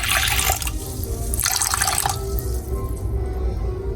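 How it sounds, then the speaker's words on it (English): Water is poured into a pot of seasoned meat for a pumpkin soup, making two short splashing bursts close by with a quieter low rumble between them. "Yes, so I'm putting like a half cup of water."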